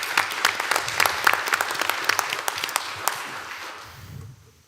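An audience at a Board of Supervisors business meeting claps for a few seconds, a dense burst of applause that thins out and fades near the end.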